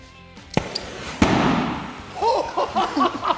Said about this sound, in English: That was an amazing explosion.